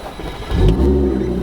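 An Audi B8 S4 with non-resonated downpipes and an AWE Touring exhaust revs up close and loud, a deep throaty surge that swells and holds briefly.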